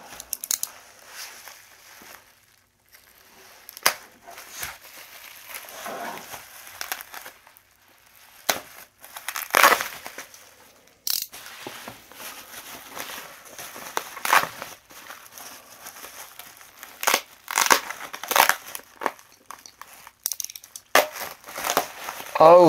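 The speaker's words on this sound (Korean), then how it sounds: "포장을 힘들게 열게 만들었네요." Plastic wrapping and packaging of a SaGa RS anniversary gift package being torn and pulled open, close by, in irregular bursts of crinkling, ripping and crackling with quiet pauses between them.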